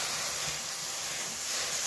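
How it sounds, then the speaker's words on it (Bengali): Water poured slowly into hot semolina and ghee gives a continuous, even, close hiss of steam with no pauses. "আস্তে আস্তে আমি জল ঢেলে দিচ্ছি।"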